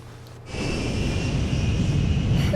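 A steady, droning aircraft engine hum fills the cabin after a quiet start, continuous and moderately loud.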